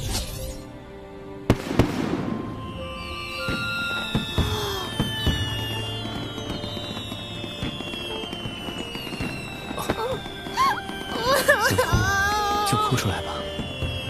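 Fireworks launch and burst at a farewell send-off: whistling rockets rise and crackling, popping explosions repeat steadily for about fourteen seconds, loud and close, layered over a sustained musical score with no clear talking.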